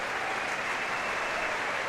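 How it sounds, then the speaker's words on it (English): Large football crowd of several thousand home fans applauding steadily as a Plymouth Argyle player leaves the pitch in a match against Sheffield Wednesday, a dense continuous wash of clapping filling the whole stretch with no clear voices. "they return that applause with some gusto"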